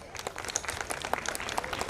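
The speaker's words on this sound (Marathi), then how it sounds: "तर त्यांचं आपण टाळ्या वाजवून स्वागत करूया" Quiet audience clapping welcomes a group of children, a scattered patter of many hands with soft crowd murmur underneath, fairly distant and low in level.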